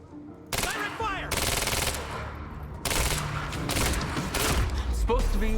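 Rapid automatic gunfire from the video game Quantum Break, loud bursts of fusillade over several seconds with short pauses between volleys, close and dominant.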